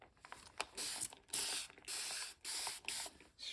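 A spray bottle misting a stitched craft piece in about six short, quiet, close hisses separated by brief pauses, with no talking.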